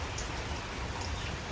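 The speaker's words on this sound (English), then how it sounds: "the rain is not done. It wants to continue to do its thing." Steady rain falls on a garden, a dense, even patter of drops with no voices, constant in level throughout.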